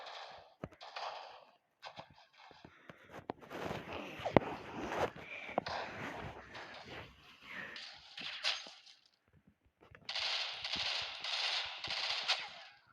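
Rapid automatic gunfire rattles through a video game in scattered bursts, fairly quiet overall, ending in a dense rhythmic volley of shots.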